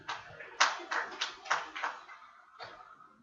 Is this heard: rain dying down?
no